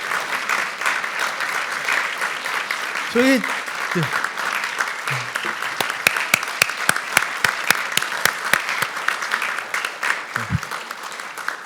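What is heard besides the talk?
audience applause at award ceremony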